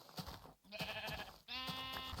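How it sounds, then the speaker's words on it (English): Sheep in the video game Minecraft bleat repeatedly, with two clear, loud, drawn-out bleats close by over a busy game background. "There's some more sheep up there, so we'll snag them"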